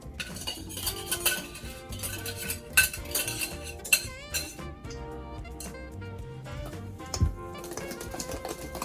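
Metal utensil clinks and scrapes quickly and continuously against a bowl while Jiffy cornbread batter is stirred into the dry ingredients, a busy close-up rattle with no talking.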